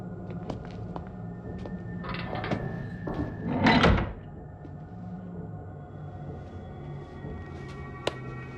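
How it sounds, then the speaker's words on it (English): A door closing in a sci-fi TV drama scene, a brief muffled thunk and scrape near the middle amid quiet background ambience and a few light clicks, with no voices. "Close the door."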